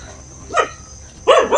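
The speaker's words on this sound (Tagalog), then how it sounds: "yung narinig yung aso sa bahay nila yun" A dog barks at a house, two quick close barks spaced about a second apart, loud and clear with no talk over them.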